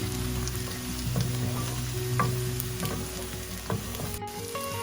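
Chopped onion frying and being stirred in a pan for goat brain fry (bheja fry) with garam masala and salt, a steady close sizzle broken by scraping spatula strokes throughout, with no talk.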